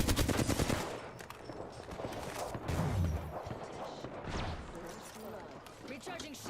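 Gunfire in the Apex Legends battle royale video game, with rapid automatic bursts and scattered shots rattling on and off throughout, mixed with game sound effects and a voice speaking over the action.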